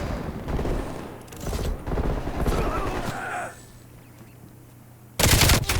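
Bursts of automatic gunfire from a Black Ops Cold War gunfight, rapid rattling volleys in the first half, a quieter lull, then a sudden loud burst at the end.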